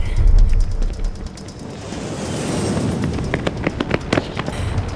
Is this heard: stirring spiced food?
no